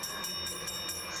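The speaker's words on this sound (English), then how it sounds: "There is the bell." A bell rings out over a speed skating rink in Salt Lake City, struck in quick repeated strokes, bright and ringing against a steady arena hum as skaters start the final lap.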